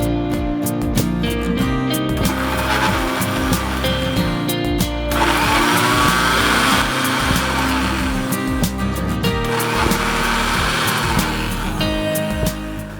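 Mixer grinder running steadily as it grinds coriander and curry leaves into a coarse paste, a loud continuous motor whine with churning texture lasting throughout, no voices.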